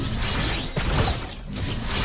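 Mechanical clicks and ratcheting clacks of a gun reload in a shooter game, a quick dense run of metallic actions and swishes, close and continuous.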